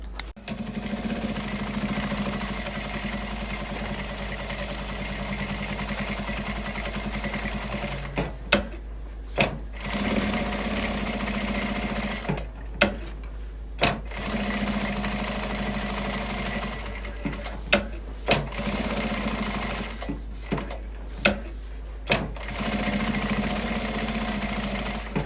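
A sewing machine stitches fabric for an Easter bunny pencil holder, its rapid mechanical chatter running in long stretches broken by brief stops and small clicks, close and fairly quiet.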